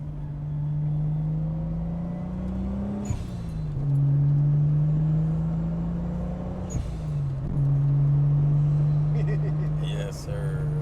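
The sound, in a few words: older custom car driving past behind the house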